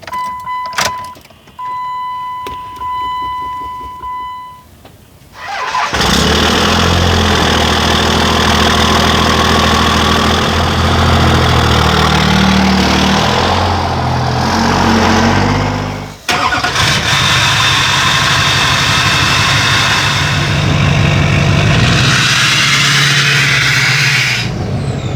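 A Duramax diesel pickup, shown with a leak, cold-starts after a few faint beeps: the engine cranks, catches and settles into a loud, rough, clattering idle, dips briefly midway, then continues idling steadily up close.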